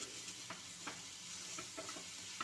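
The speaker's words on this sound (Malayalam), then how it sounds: "ഇപ്പോൾ നമ്മളിത് കുമ്പളൊക്കെ ഒന്ന് ഇളക്കി ചെറുതായിട്ട് വാടി വരുന്നുണ്ട്." Mushrooms fry with onion and ginger in a pan, a faint, low sizzle broken by quiet, evenly spaced stirring scrapes close by.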